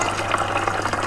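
Water pours steadily into a plastic bottle, a continuous bubbling, gurgling fill that stays close and fairly loud for about a second.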